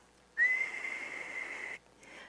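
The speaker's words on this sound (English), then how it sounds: "we use a whistle" A single high, steady ceremonial whistle blast, used in Native American drumming ceremonies, rings out for about a second and a half, clear and close, then cuts off into quiet.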